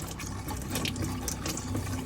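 A water pump draws water through the tap of a campervan to purge air from the system, giving a steady, close rushing and gurgling flow with a low pump hum underneath, no voices.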